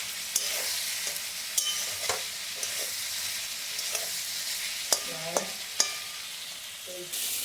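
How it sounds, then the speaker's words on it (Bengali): Mixed vegetables fry in a pan with a steady sizzle while a utensil stirs them, producing several sharp scrapes and clinks against the pan over the frying. "তো দেখতে পাচ্ছ আমার মিক্স ভেজের সবকটা উপাদান কিন্তু প্রায় একেবারে ভাজা ভাজা হয়ে গেছে।"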